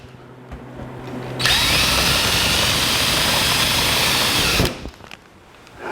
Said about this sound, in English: Then what we got to do is drill the metal